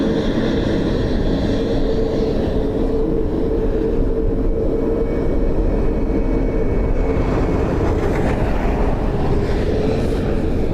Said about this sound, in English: That's the 321neo that had the tail strike in the States last summer.